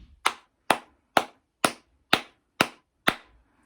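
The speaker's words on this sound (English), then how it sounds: "Count the number of my hand claps." Seven sharp hand claps from a single person, evenly spaced about half a second apart, close and loud against silence.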